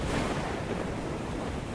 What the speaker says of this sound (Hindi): नदी की लहरें भी धीरे धीरे तेज हो रहा था।